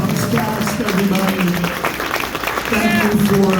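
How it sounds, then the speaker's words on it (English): Audience applause for the Goosebumps cast at a New Jersey horror convention panel, steady clapping mixed with a busy crowd and overlapping talk and cheers throughout. "How about a round of applause for our Goosebumps cast, everybody?"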